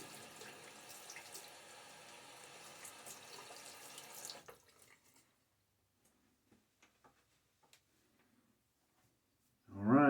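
A tap runs water for building shaving lather, a steady hissing flow for a few seconds that stops abruptly, followed by quiet drips and small clicks, then a louder burst at the end.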